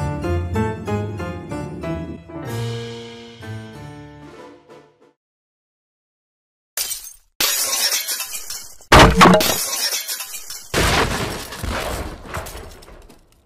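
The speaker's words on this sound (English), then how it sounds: "It sounds like glass breaking again!" Glass shatters in Minecraft: a few soft musical notes fade into silence, then several loud, sharp breaking crashes burst one after another, close and harsh.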